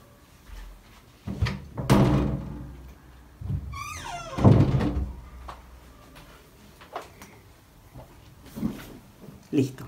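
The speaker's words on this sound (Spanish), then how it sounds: "Le voy a abrir la puerta al gato." A door opens to let a cat out, with knocks and thuds from handling it, then a squeaky creak of the hinge amid scattered bumps and a person speaking.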